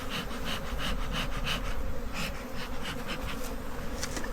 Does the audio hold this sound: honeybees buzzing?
yes